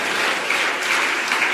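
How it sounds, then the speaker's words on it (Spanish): A church congregation claps together in a brief burst of dense, steady applause filling the room. "Dale un aplauso más fuerte a Jesús"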